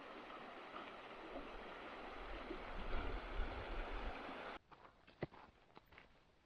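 Gallatin River in Yellowstone National Park flowing beneath a footbridge, a steady rushing wash of water that cuts off abruptly partway through, leaving faint footsteps and scattered knocks.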